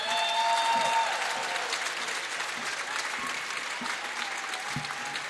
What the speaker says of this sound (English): Let's give a big round of applause to Lydia Slack.